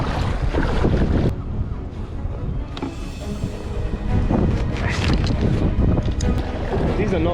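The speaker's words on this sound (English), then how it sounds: "that is a pretty strong wind" Strong wind roars and buffets the microphone while choppy sea swell slaps and breaks around a kayak off the Scottish east coast, loud and continuous with brief voices in the mix.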